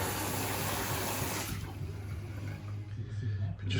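Water running from a newly plumbed sink, a loud steady rush that thins out halfway through over a low hum from the pipes.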